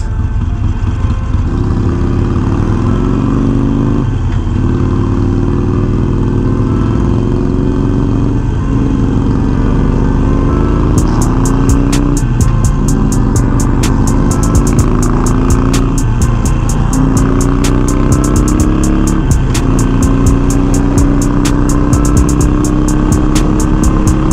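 A Harley-Davidson Iron 1200 motorcycle with Vance and Hines slip-on exhausts idles loud and close, a steady low engine rumble with periodic swells as the throttle is blipped, running continuously with no voices.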